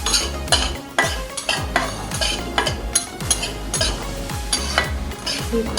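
Split mustard seeds roast in a pan, dry crackling under a brisk, regular pattern of metal utensil scrapes and taps against the pan, close and loud.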